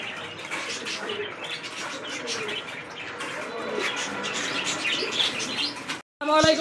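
Pigeons in a pigeon loft coo and flutter in a dense, continuous chorus of soft throaty calls and chirps, close by, with faint talk in the background.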